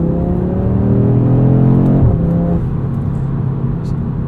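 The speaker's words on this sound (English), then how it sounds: "I hear some engine sound from up front, not really a whole lot coming out of the rear." A 2022 Audi RS 3 engine hums loudly as it accelerates, the tone rising and then dropping as a gear shift occurs, heard from inside the cabin.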